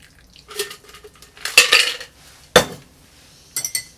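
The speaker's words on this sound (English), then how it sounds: "Let's strain our cocktail on top of the crushed ice." A bourbon and Fernet Branca cocktail is strained onto crushed ice, heard as a few separate bursts of clinking and rattling ice and glassware against a quiet background.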